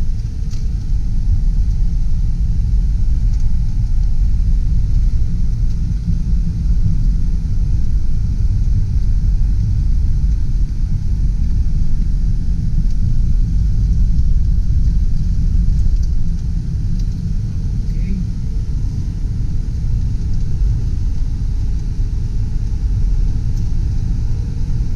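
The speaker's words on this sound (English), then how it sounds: "we will give it a little bit more gas to see how the supercharger feels in a second." A supercharged 2000 Buick Park Avenue Ultra drives on an even road, its engine giving a steady, low, continuous rumble with road noise throughout. Any acceleration is gentle and sustained rather than a sharp rev.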